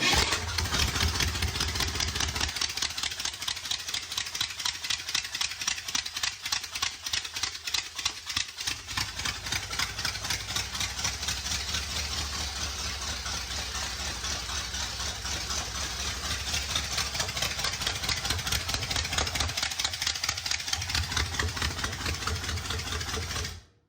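Car engine, started cold after a pump of the throttle, cranks and fires, then settles into a steady, loud, rapidly pulsing idle that runs close and continuous before cutting off at the end.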